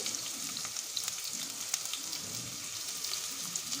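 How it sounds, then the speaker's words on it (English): Onion frying in mustard or vegetable oil inside a pressure cooker, a steady close hiss of crackling oil with fine popping textures throughout and no voices. "Now I'm going to fry some onion"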